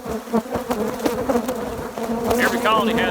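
Angry honeybees swarming around a hive during beekeeping, a dense, loud buzzing drone with individual bees whining past close by.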